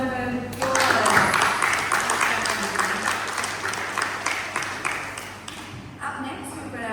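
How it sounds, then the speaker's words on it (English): An audience at an interfaith week gathering in Kingston applauds after a performance, a steady burst of close clapping with sharp individual hits that starts after a brief voice and slowly thins out. "How about another round of applause?"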